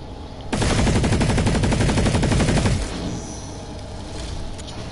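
Sustained rapid automatic gunfire in the online shooter PlanetSide 2, a loud dense burst lasting a couple of seconds before cutting off to quieter ambient game noise.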